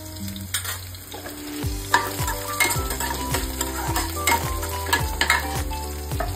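Green chillies and cumin seeds hit hot oil in a pan for sabudana khichdi, giving a steady close sizzle with scraping stirs, while a tonal background hum runs underneath.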